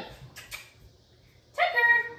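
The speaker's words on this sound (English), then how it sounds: "My other dog's over here, so he's saying, "Hi," A dog makes short whimpering, yipping sounds at home, a few brief high whines close by with quiet gaps between them, and a voice may be faintly present.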